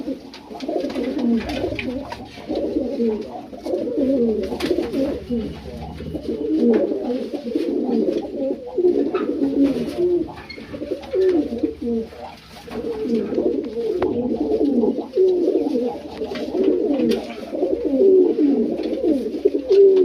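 Several pigeons coo close by in a steady, overlapping murmur of low throaty calls, continuous throughout.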